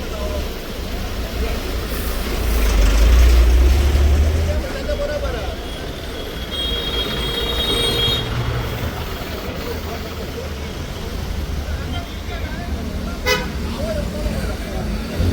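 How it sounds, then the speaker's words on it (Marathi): A traffic jam at Reis Magos, Verem in Goa, with a steady rumble of idling cars, buses and trucks. Car horns honk now and then, and a voice talks over the traffic noise. "हांगासर सगळो एक ट्रॅफिक जॅम जाल्लो आसा"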